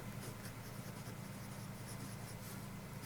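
Faber-Castell HEXO fountain pen with a steel medium nib, inked with Monteverde black ash ink, writing on paper: a soft, continuous, faint scratchy glide that is close and quiet, with no talk.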